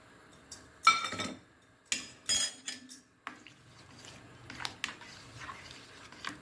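Neem leaf juice, turmeric and coconut oil are stirred into melting soap base in a pot on the stove, giving sharp metallic clinks and scrapes in irregular bursts, close by, with quiet pauses between.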